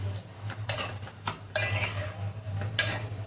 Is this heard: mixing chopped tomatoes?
yes